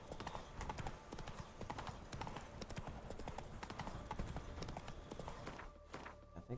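Roach the horse's hooves clip-clop steadily at close range in The Witcher 3, a brisk continuous gait filling the whole stretch.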